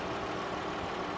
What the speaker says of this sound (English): Let me pop the hood so you can listen to it run.